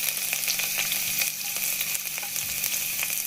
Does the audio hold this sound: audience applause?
no